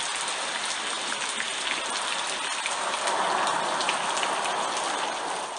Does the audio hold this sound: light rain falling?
yes